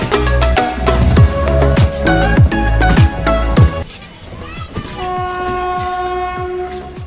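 A passenger train in Murshidabad runs loudly close by, heard from inside: rhythmic clickety-clack of wheels over rail joints with a sustained horn blast in the latter part.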